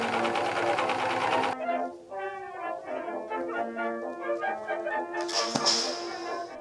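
A sewing machine stitching the hem of a pleated skirt whirs loudly and steadily for about a second and a half, then gives way to melodic background music.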